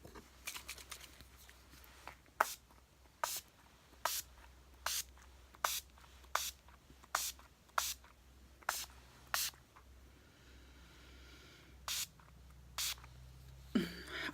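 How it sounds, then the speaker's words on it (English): Makeup setting spray is pumped in a rapid series of about a dozen short, crisp spritzes, steady at first, then a pause and a few more, close and alone in a quiet room. "Where's my setting spray?"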